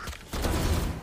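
Gunfire in a fast-paced jet-themed video game, a short burst of rapid shots following a brief pause, loud and close with no talk over it.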